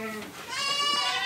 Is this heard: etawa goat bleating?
yes